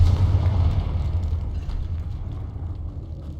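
Confringo fire spell from Hogwarts Legacy bursting in a decayed, long-abandoned room: a heavy low boom that rolls on as a rumbling, slowly fading tail for several seconds.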